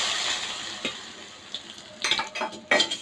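Hot oil poured over a chicken 65 mixture for an Indian meal, giving a soft steady sizzle with a few sharp crackling bursts and utensil clinks toward the end, close and alone.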